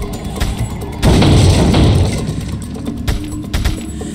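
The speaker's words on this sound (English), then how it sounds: "Fireworks. Fireworks." A loud, sudden burst of booming, crackling fireworks in the video game Resident Evil 4 rings out at a shooting range, then settles into a rumbling tail over a busy game background.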